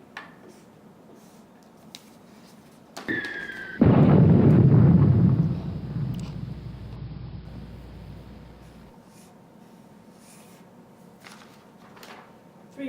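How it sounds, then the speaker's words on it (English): A grenade explosion bursts loudly and suddenly, a heavy booming blast that rolls on and slowly decays over several seconds, standing alone without talk. "Grenade!"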